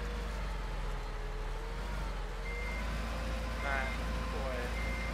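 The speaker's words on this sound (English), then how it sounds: "Back up and connect." A John Deere R4045 in Farming Simulator 2015 backs up with a low engine drone, and a few high electronic reversing beeps chirp over it while a voice talks.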